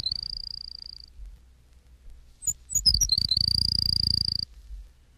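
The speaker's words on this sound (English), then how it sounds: "230, Baird's Sparrow." Baird's Sparrow singing alone: a few short, separate high chips, then a quick run of notes that settles into a long, dry, high trill lasting about a second. It sounds fairly close and clear over quiet background.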